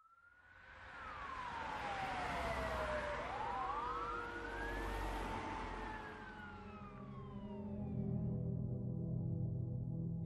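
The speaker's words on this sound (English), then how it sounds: "fire trucks, police cruisers, and an ambulance roared through the small town of Innisfail" Wailing emergency sirens from fire trucks, police cruisers and an ambulance racing through a small town, several sweeping tones overlapping and gliding up and down, moderately distant and steady throughout.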